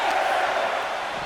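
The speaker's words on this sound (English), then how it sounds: "Let's look at this sold out crowd here in Houston, Texas. They're on their feet." A sold-out arena crowd in Houston, Texas roars and cheers during a WWE 2K23 wrestling match, a loud, dense, steady wash of noise with no break.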